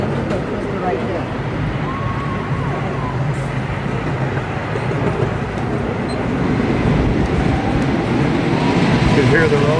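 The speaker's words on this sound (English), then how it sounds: "You can hear the roller coaster going over us." A roller coaster train at an amusement park rumbling overhead at night, a loud, continuous roar that swells slightly as it passes, with people talking faintly over it.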